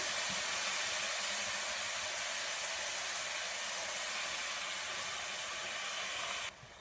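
Loud, steady hiss of steam rising from a pot of cooking dried shrimp curry, continuous and close, cutting off abruptly near the end.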